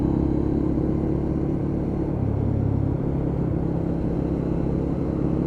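Lexmoto LXR motorcycle engine droning steadily while riding, with a shift in pitch partway through as it changes gear, close and continuous with a rumbling tone.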